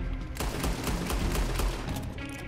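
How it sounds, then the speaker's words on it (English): Rapid automatic rifle gunfire in a video game, a sustained burst of closely spaced shots that stays loud throughout with little pause. "he fires that like a machine gun. Machine gun, I mean, like an automatic rifle"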